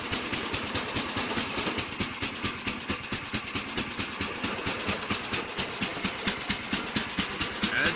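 The engine of a 1989 Sears riding tractor idling, a steady close putter of evenly spaced rapid beats with a constant mechanical rattle, heard alone.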